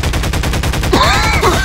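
Shotgun blasts in the video game Lethal Company, loud repeated booming shots over a steady noisy background, with no talking.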